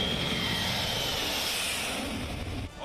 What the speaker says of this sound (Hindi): C-17 Globemaster